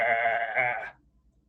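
A person imitates a sheep's bleat in one sustained, wavering nasal cry lasting almost a second, close and loud, then cutting off into near silence.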